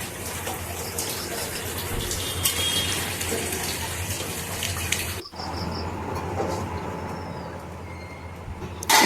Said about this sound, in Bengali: যখন একদম তেল ছেড়ে যাবে তখন এর মধ্যে দিয়ে দেবো আমি গরম জল।